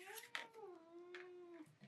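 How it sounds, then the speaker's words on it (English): A house cat meows for its dinner: one long, drawn-out meow rising and falling close by, followed by a couple of short, softer mews. "No, this is my cat, Toby."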